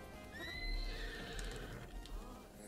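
A horse whinnies in The Legend of Zelda, a rising then falling neigh up front, followed by soft hoof clip-clops over steady game ambience.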